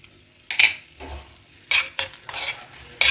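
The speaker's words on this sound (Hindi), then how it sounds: "तो तेल गरम हो गया है, तो सबसे पहले मैं डाल दूंगी ये मिर्चें" Whole red chilies and whole spices (coriander seed, black pepper, cloves, mace) go into hot oil in a home kitchen, giving bursts of sizzling and spluttering with a few clinks of a spoon against the pan.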